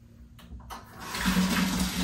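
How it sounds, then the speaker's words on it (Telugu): Hot water gushes from a kitchen tap, starting after a few soft knocks and swelling into a steady, loud rushing stream that continues to the end. "హాట్ వాటర్ ట్యాప్ ఆన్ చేస్తా."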